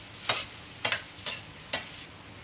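Soy sauce and sugar being stirred in a frying pan during Thai home cooking, with four evenly spaced scraping strokes of the utensil over a steady background sizzle, close and fairly loud.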